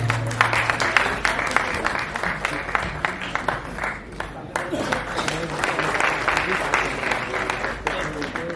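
Audience applause at a Hindi talk event honoring a screenwriter and film director, steady dense clapping across the whole stretch with a low hum underneath and some voices mixed in.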